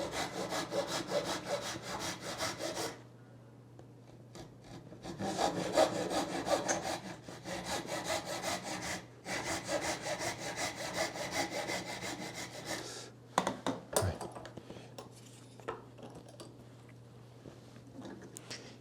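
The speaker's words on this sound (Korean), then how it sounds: "선대로만 톱질을 해주면은 이제 이렇게 잘 떨어져 나오잖아요." A hand saw cuts wooden lattice bars along a marked line for a traditional Korean tortoise-shell window frame, giving steady rasping strokes in several bursts with short pauses, ending in a few light knocks.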